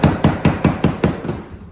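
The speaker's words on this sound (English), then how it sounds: "Now this stuff's magical because you can hit it with a hammer." Hammer blows striking a hard material in a workshop demonstration, seven sharp evenly spaced impacts about a quarter second apart, loud and close, with no talking.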